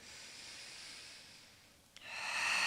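During a foam roller exercise, a soft, close inhale hisses in, rising steadily in strength over the last second after a quieter stretch of airy breath.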